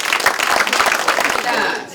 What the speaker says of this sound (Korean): 두 분께 다시 한번 뜨거운 박수 부탁드리겠습니다